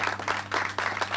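Audience applause heard up close as loud, rhythmic bursts of clapping, with a steady low hum running underneath and no clear talk.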